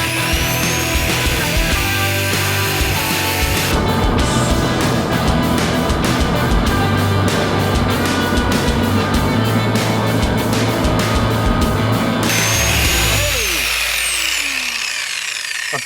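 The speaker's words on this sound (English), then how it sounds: "I'm not useless using an angle grinder." An angle grinder cuts through metal while someone tries to break into a Poco F3 phone box sealed behind bars. The harsh, loud grinding runs continuously and close, with a rougher, buzzing stretch in the middle before it winds down.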